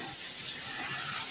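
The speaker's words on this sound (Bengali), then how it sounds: "দাঁড়াও আলুটা ভাজা হোক," Potatoes frying in a pan for a home-cooked Bengali meal, giving a steady close sizzle with faint crackle throughout, no voices.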